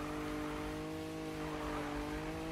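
A GTR in Need for Speed drifts with a steady, droning engine note and a broad rush of tire noise, held at a constant pitch close by for a couple of seconds.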